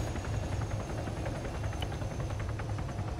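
Video game helicopter rotor, a steady rhythmic thumping drone with continuous engine noise, sustained and fairly loud throughout.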